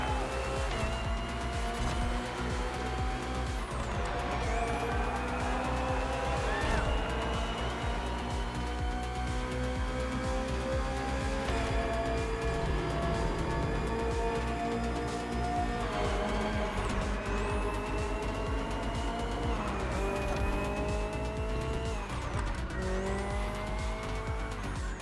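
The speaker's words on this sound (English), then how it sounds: "Finally, the BMW M Hybrid V8." The BMW M Hybrid V8 endurance race car from the 2023 Le Mans-style lineup in The Crew Motorfest drives with a continuous high-revving engine whine, rising and falling through gear shifts, and occasional tire squeal.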